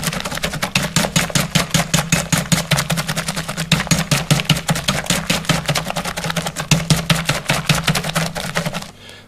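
A big whisk beats Yorkshire pudding batter in a bowl, producing fast, even rhythmic clacks and swishes that run loud and steady for several seconds before stopping abruptly.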